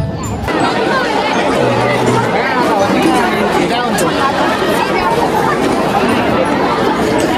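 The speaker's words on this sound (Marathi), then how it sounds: "दादा लय गर्दी बाहेरच का" Dense crowd chatter fills the grounds at Bramhaa Fest, a college festival, with many overlapping voices forming a steady, loud babble that runs the whole time.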